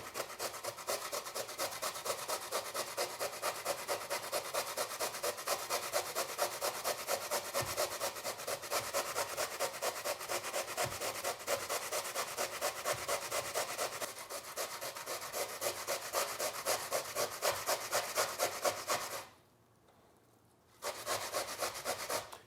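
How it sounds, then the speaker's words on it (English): Beet and carrot being grated on the fine side of a grater, a steady, close rasping scrape that runs continuously with rhythmic strokes, pausing briefly near the end before resuming. "we're gonna use the fine side of the grater, and we're just gonna grate it all up"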